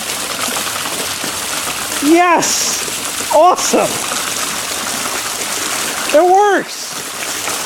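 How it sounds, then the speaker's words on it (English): Water pours steadily from a pool pump return during a pool opening, a continuous trickling splash running throughout while voices shout excitedly a few times over it. "We should get some water flowing soon."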